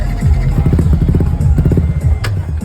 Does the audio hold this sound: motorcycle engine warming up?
yes